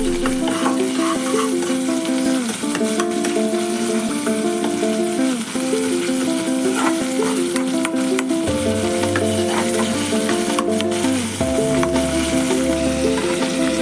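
Ginger paste frying in a pan for a tomato kurma, a steady close sizzle with stirring scrapes running throughout and no talking.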